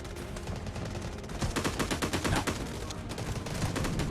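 A guided missile strike lands in the shooter game Delta Force, setting off a dense, continuous barrage of rapid explosive cracks and bursts that swells louder midway.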